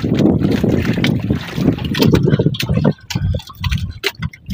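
Strong gusty wind from a storm roars and buffets the microphone in loud, uneven bursts, with rushing noise and water splashing against a small fishing boat.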